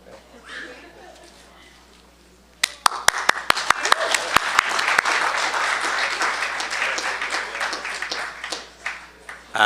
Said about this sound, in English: We're applauding.